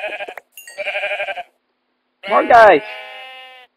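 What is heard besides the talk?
sheep bleating in a video game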